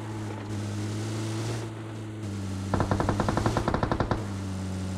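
Engine drone hums through a BGMI match, then a sharp burst of rapid automatic gunfire rattles out near the end, loud and close.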